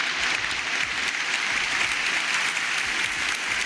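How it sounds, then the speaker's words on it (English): Continuous applause fills a podcast segment, a dense, steady patter of many hands clapping at even loudness from start to finish, with no voices on top. "A big thanks and applause"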